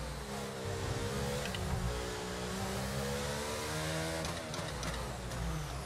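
In the F1 22 video game, an F1 car engine drones at low revs in high gears around Monaco, giving a steady, loud tone with shifting harmonics and no voices.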